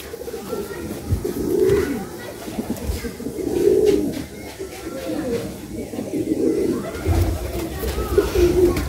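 Madrasi pigeons in a loft in India coo in repeated low, rolling phrases, close and steady, with someone talking over them and handling sounds in the background.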